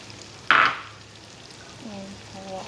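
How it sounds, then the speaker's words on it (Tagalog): Baharat spices are stirred into Kabuli pulao frying in a pan, producing a brief sharp sizzle that fades to a soft simmer, with a voice briefly speaking afterward. "So, lagay natin. Haluin ulit."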